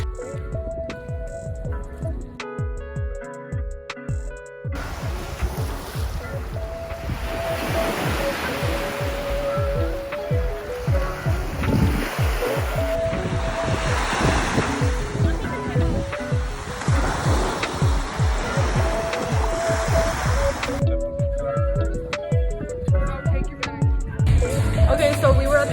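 Ocean waves breaking at a beach in Miami, a steady broad roar of surf that stays loud throughout, with some music and faint background voices mixed in at the start and end.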